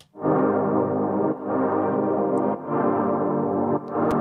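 A sustained, harmonically rich instrument tone with its low end thinned by a low-cut filter, playing in long phrases with brief dips between them.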